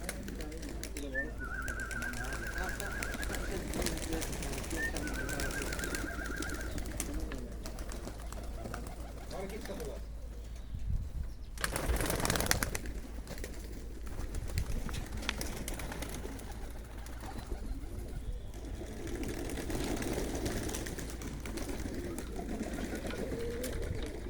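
Racing pigeons spill out of a newly opened third loft, cooing steadily with a sudden burst of wing flapping midway, all set against an outdoor bed of murmuring voices.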